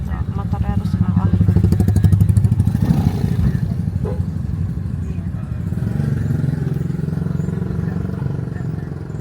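A motorcycle engine on a narrow village road runs close and loud with a steady rumbling putter, its pitch rising and easing as it moves, mixed with some clattering and thumps throughout.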